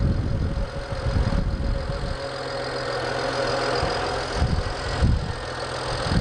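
A BMW 335i E90 engine idling with a steady low rumble and faint whine, a few brief knocks and bumps rising over the even hum.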